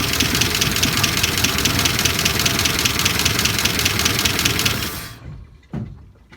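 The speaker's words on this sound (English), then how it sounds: "Listen to that valve clatter" A loud 1963 Dodge 330 engine, running for the first time in 25 years with a dead valve, runs with a busy, rattling clatter of valves for several seconds, then cuts off abruptly into near silence with a faint knock.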